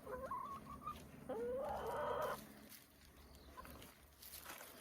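Homestead chickens cluck close by in short bursts. One louder, drawn-out squawk rises in the middle, then fainter clucks follow over a quiet outdoor background.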